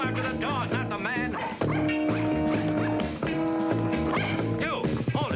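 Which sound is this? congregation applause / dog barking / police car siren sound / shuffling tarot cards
dog barking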